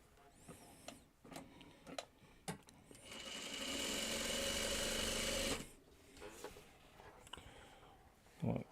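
A sewing machine stitches fabric pieces together in one steady whirring run of a few seconds, close and moderately loud, between stretches of quieter handling noises and clicks.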